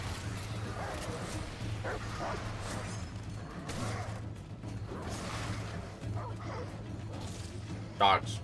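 Dogs barking and yipping in a video game, heard over steady game music and ambient noise while a player talks throughout, with a louder burst near the end.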